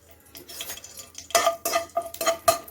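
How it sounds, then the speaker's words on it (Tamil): Whole spices, bay leaf, cinnamon, cloves and cardamom, are tossed into hot oil and stirred, starting quiet, then a few sharp metallic scrapes and clinks of a spoon against the pan over a light sizzle. "இந்த பிரியாணி இலை, இந்த பட்டை, கிராம்பு, ஏலக்காய் இதை போட்டு ஒரு வதக்கிடுங்க."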